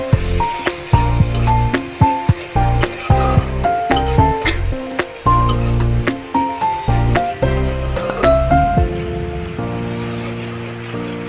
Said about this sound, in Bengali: মশলাটাকে আমি ভালোভাবে নেড়ে চেড়ে কষিয়ে নিচ্ছি।